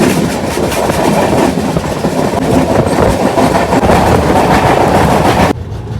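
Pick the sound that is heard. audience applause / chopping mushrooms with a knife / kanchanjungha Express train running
kanchanjungha Express train running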